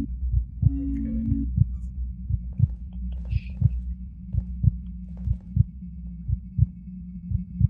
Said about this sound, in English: I can't get rid of this heartbeat and it's annoying me.